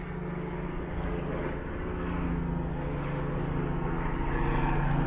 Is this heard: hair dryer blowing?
no